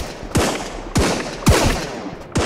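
Four loud pistol shots in the video game Sunkenland ring out one after another at uneven intervals, each with a sharp crack and a short echoing tail.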